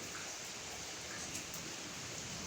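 Heavy rain falls on a house where water is leaking inside, producing a steady, faint, dense hiss of rainfall with no pauses.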